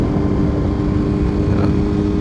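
A Honda CB400 Super Four motorcycle engine drones steadily at high revs, loud and close, with a buzzing four-cylinder hum and some wind rumble.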